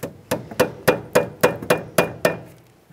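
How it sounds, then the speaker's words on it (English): Eight sharp metallic taps in an even rhythm on the rear brake caliper of a 2013-2015 Chevrolet Malibu, each one close and ringing briefly before the next. "At this point, tap on the caliper a couple times, repeat the process."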